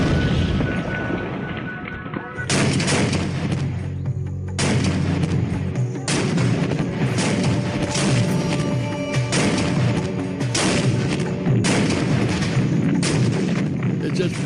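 A Bofors 40 millimeter gun fires shells in a World War II battle near Caen, with loud, heavy booms repeating in quick succession over a constant roar of battle noise.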